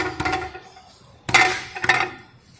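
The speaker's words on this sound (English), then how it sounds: "I hear rattling." Two or three loud metallic clatters and knocks ring out from a broken catalytic converter in the exhaust of a Mercedes, with a twin-outlet muffler, each burst sharp at onset and then fading, close to the microphone.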